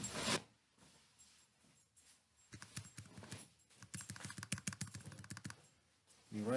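Keyboard typing at a PC, with a short burst of keystrokes and then a longer run of quick, close clicks, framed by talking at the start and end.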